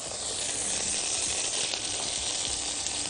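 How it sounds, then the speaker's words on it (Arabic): Onions hit a hot pan and sizzle in a steady, bright crackling hiss that runs unbroken from start to finish, with no voices. "نبدأ دلوقتي نضيف البصل"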